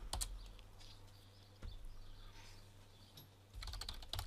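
Keystrokes on a computer keyboard while Docker commands are entered in a terminal, a quick burst of clicks at the start and a denser flurry at the end, with fainter scattered taps between, close and fairly quiet.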